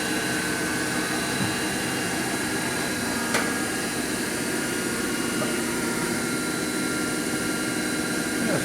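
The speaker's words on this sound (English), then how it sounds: "That's the higher spindle speed there at 3 grand." A Haas VF-3 Vector Drive CNC vertical machining center spins its spindle at 3000 rpm, giving a constant, dense high whine and hiss with a faint tick near the middle and no voices.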